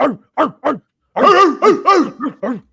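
Dog barking close by, three short sharp barks, a brief pause, then a quicker run of six louder barks, with no talking.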